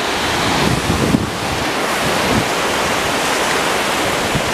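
Sea waves break and wash steadily onto a beach in Spain, a loud, continuous roar of surf with rolling swells, heard close with no voices.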